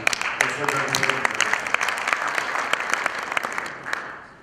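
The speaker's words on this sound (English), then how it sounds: "please give another applause to Arthur" Conference room audience at a session on faecal sludge treatment for resource recovery applauds a presenter, a dense sustained round of clapping with sharp individual claps standing out, a voice briefly audible at the start, then tapering off.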